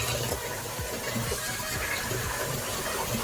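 Tap water runs steadily into a sink during a face rinse, a close, continuous splashing hiss with no talk over it.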